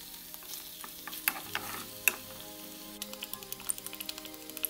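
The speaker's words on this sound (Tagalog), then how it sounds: "Ihalo natin mabuti." Chicken afritada with mixed peppers being stirred in a pan, soft sizzling under scattered clinks and scrapes of a utensil, fairly quiet and close.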